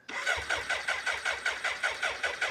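A BMW K100 motorcycle engine cranks over in a fast, steady rhythm, a rapid series of regular chugging pulses close by, with no voices.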